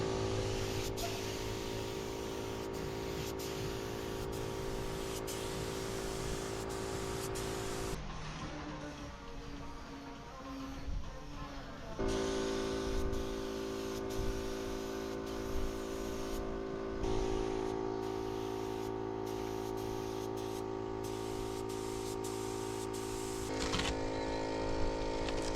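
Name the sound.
spray painting a boat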